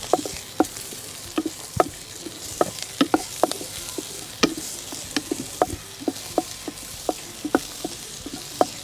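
Chopped onions with green chili frying in a pan for Rajasthani gatte ka pulao, a soft sizzle broken by frequent sharp clicks and taps of a spatula against the pan; no talking.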